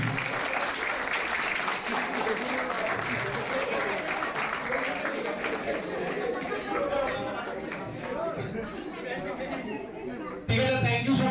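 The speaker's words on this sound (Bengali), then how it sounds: "তো ওদের জন্য একটা বড় হাততালি।" An audience at a Critical Care Day celebration at a medical college claps for the volunteers, sustained applause mixed with crowd chatter that swells again near the end.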